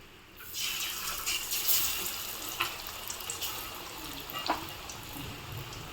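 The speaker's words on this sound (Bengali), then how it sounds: "তেল এদিকে আমাদের গরম হয়ে গেছে, এবার পেঁয়াজগুলো আমরা ছাড়বো।" Onions going into hot cooking oil in a home kitchen, a steady broad sizzling hiss that swells as they hit the pan, with a few brief pops, close and fairly loud with no talking.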